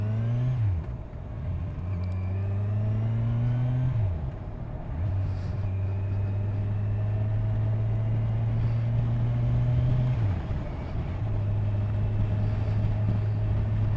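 A Kawasaki Z1000SX motorcycle engine revs in a series of smooth, steady rises that climb, hold and drop back, close and fairly loud with no voices.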